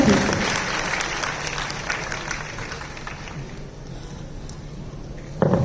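Audience applause at a Netsurf community event, a dense steady clapping from a large crowd filling the whole stretch, easing slightly near the end before a brief louder burst.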